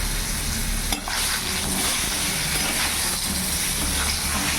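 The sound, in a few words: pointed gourd (potol) frying in oil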